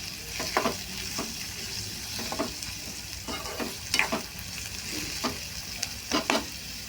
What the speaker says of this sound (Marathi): आता आपला कांदा आणि टोमॅटो छान परतत आहे